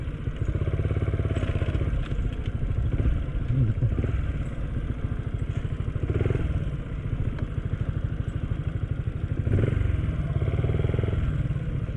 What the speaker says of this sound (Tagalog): Pero obviously may dumadaan dito mga motor, ayan oh.